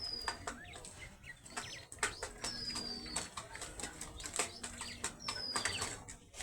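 Female quail kept in a home enclosure, with soft scattered wing flutters and faint short chirps close by, a steady low background rustle throughout.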